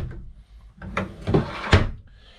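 A bedroom drawer on full-extension ball-bearing guides slides open or shut in a tiny home, with a soft rolling rumble followed by a couple of close, sharp knocks as it stops, fairly quiet.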